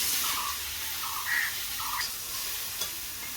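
Hot oil hisses steadily as eggplant fries, with a few brief squeaky scrapes and a soft clink over the constant sizzle.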